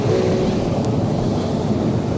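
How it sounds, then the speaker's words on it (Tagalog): Heavy ocean surf roars continuously at a beach in Punta Kugon, Roxas City, mixed with strong wind buffeting the microphone, loud and close with no voices. "Yung malakas nga lang yung alon ngayon."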